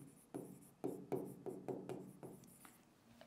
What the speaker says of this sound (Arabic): اكتب التكمله اللي عندي